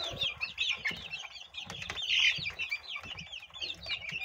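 Several egg-laying chickens cluck and chatter continuously at close range, overlapping calls with some rustling and scratching underneath.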